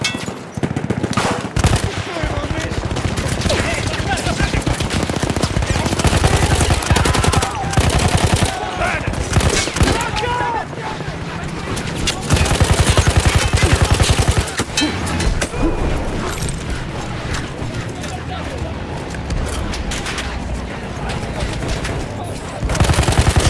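An anti-aircraft gun in Battlefield 1 fires in loud, close, repeated bursts of rapid booming shots, with dense battle noise and occasional shouting voices throughout.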